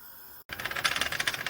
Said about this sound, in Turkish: tencerenin içerisindeki süt taşından geliyor.